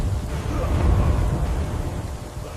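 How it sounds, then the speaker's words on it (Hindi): Thunder rolls low and heavy over steady rain in an ancient desert setting, a dense continuous rumble with no voices. "बारिश आ गई।"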